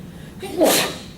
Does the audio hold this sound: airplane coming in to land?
no